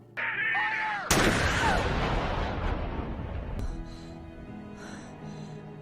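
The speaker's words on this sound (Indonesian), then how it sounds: "beberapa tentara yang semangat pun menembak makhluk tersebut hingga harus tersungkur" In a film, soldiers open fire on a creature. A sudden loud, sharp blast lands about a second in and decays into a rumbling tail, after a brief whining tone.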